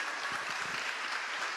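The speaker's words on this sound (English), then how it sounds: "Let's give her a big round of applause." Brief, steady applause from an audience at a scholarship event as an award recipient is honoured, a soft even clatter of clapping at moderate distance with no voices standing out.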